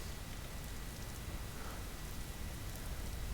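Steady rain falls in the video game Vintage Story, a dense continuous patter with no voices over it.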